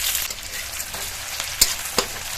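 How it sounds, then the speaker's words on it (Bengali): Chopped onions frying in the hot oil left over from frying fish, a steady close sizzle with a few sharp crackles and pops, no talk. "তেলের মধ্যেই দিয়ে দেবো পেঁয়াজ কুচি।"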